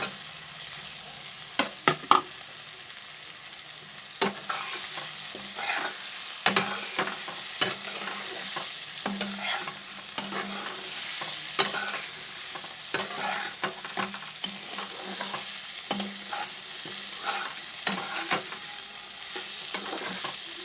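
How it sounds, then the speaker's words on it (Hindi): Pasta made from wheat flour fries in a pan over a low gas flame, giving a steady soft sizzle broken by scattered stirring scrapes and clicks throughout, close and alone with no talking. "इसी तरह से हमें थोड़ी देर तक इसे फ्राई करते रहना है, धीमी गैस पे हमें"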